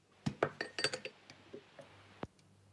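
A spoon stirring coffee in a glass gives a quick run of bright, close clinks against the glass, slowing into a few softer taps and ending with one sharp final knock.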